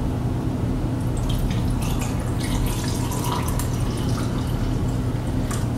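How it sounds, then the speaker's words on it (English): Lemonade tea pours from a container into a cup, a steady trickling and splashing of liquid heard close up and alone. "I'm gonna pour it right here in the cup."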